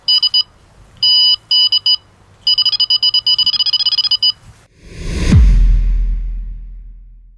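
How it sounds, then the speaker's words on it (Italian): A Delkim TXI-D carp fishing bite alarm gives loud, close electronic beeps in quick repeated bursts of varying length, then a dull low thump and a fading rumble. "quanti beep vogliamo che metta il nostro Delkim quando c'è una"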